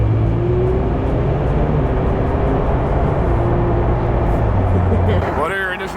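A K-swapped Subaru car is driving, its engine droning steadily with a low hum and road noise throughout, loud and continuous, easing off slightly at the end.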